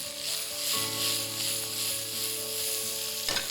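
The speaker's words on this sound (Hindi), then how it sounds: "तो प्याज यहाँ पर ब्राउन हो रहे हैं।" Onions browning in a hot pan for paneer fajitas give a steady, close sizzle that hisses evenly throughout, with no voices.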